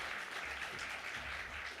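Brief applause from the audience at a leadership dialogue, a dense, even patter of clapping heard alone at moderate loudness.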